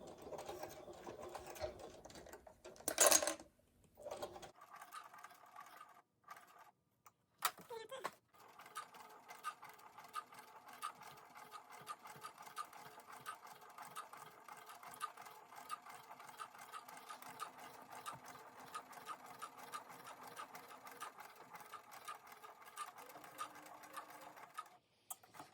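A sewing machine with a walking foot stitches through thick PVC cover layers, its needle hammering in a fast, even run that continues steadily after a brief pause and a few clunks near the start.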